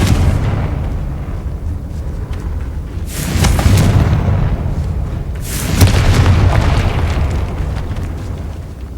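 Spell effects in the Hogwarts Legacy video game land as two heavy booming blasts, the last a Confringo fire explosion, each with a crackling rumbling tail over a steady low hum.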